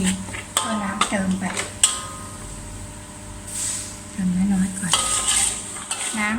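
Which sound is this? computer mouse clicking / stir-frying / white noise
stir-frying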